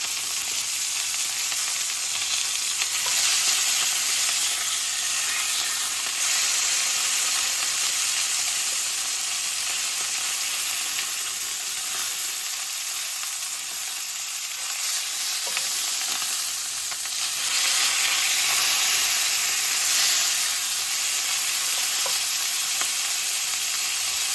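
Pork tenderloin frying in a pan during home cooking, a steady, loud, broadband sizzle that holds throughout with brief swells and dips, no talking.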